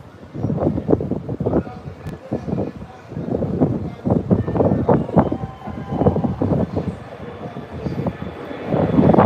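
A loud, rumbling American Airlines plane taking off near St. Thomas roars steadily with fluctuating intensity, as if passing nearby, with no voices standing out.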